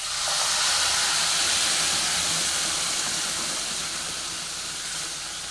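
A spinach-lentil mixture hits hot tempering in a pan and sizzles loudly in a steady, dense hiss that fades only slightly, with no talking.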